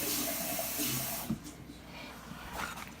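A splash of water runs into a sauce pan holding leftover sauce in a home kitchen, a brief close pour that cuts off after about a second and leaves faint clattering and room hiss.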